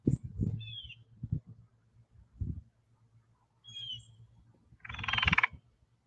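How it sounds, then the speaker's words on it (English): A frog calls outdoors in Georgia during Hurricane Helene, a short croaking burst standing out near the end after a few faint chirps, with low knocks and rumble scattered earlier and no talk. "That's a frog you guys hear."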